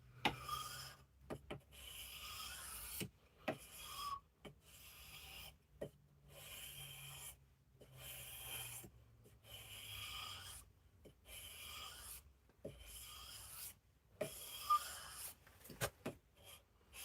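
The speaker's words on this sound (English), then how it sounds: "it's wet and dry sandpaper. This is 800 grit and I've got 1000 grit on the other side." Steel tool edge being sharpened on 800 and 1000 grit wet and dry sandpaper, heard as quiet, repeated rasping strokes in a steady back-and-forth rhythm, each pass separated by brief pauses, close and alone with no talking.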